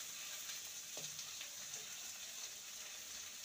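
Chopped tomato and sliced onion frying in a pan, a soft steady hiss with a faint utensil tap, brief and unaccompanied by voices.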